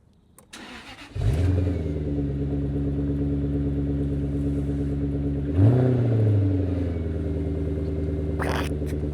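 A car engine cranks briefly and fires up, settling into a loud, steady idle, then gives one short rev around the middle before dropping back to a smooth idle.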